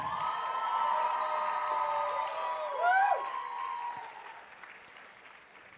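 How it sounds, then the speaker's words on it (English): Audience at the Origins Championship 2023 applauding the competing teams, a steady wash of clapping with a few whoops and cheers rising near the middle before thinning out toward the end. "Let's give them all another round of applause."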